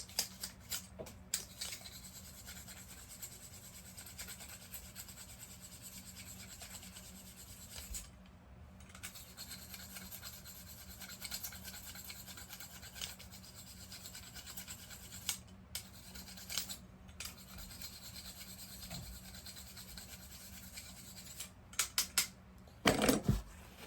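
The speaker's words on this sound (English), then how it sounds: "Got this handy dandy fletching stripping tool." Scraping and rubbing as a fletching stripping tool pulls fletching off an arrow shaft, steady close scratching with small clicks and a burst of clatter near the end, no talk.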